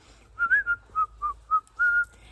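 Someone whistles a short, bright tune alone, a handful of clear notes with brief gaps between them, close and fairly loud.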